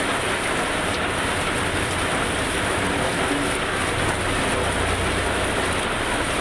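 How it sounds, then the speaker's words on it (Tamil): Heavy rain pouring down in Thiruvarur, a dense, continuous hiss of drops hitting surfaces, loud and unbroken throughout with no speech. "திருவாரூரில் சுமார் 2 மணி நேரத்திற்கு மேலாக கனமழை பெய்தது."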